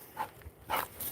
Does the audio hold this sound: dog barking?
yes